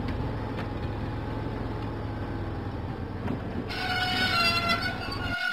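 A diesel engine in a Thomas and Friends video game rolls through the countryside with a steady rhythmic rail clatter and mechanical rumble, brightening with added chugging and hiss near the end.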